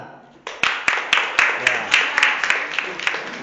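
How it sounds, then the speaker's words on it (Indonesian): Audience applause breaks out abruptly and keeps going steadily, a dense wash of many hands clapping with a few sharper individual claps standing out at regular intervals; it sounds fairly close. "Ya, tepuk tangan."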